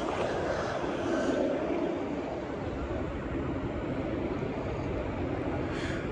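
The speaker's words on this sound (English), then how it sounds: "There's choppers up top." Helicopters fly over a Philadelphia city street during looting and a National Guard deployment near City Hall, a dense, constant rumble of rotors and engines filling the scene without pause and no speech.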